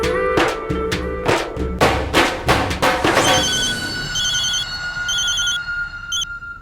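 A telephone rings with a bright repeating electronic tone during a household call, the rings sounding over a loud burst of rhythmic music stings before the ringing settles into a steady, sustained tone.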